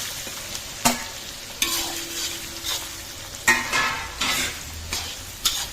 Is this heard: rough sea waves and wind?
no